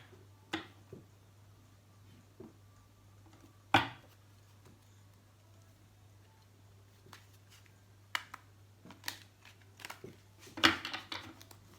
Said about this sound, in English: Just bear with me as I shuffle the deck.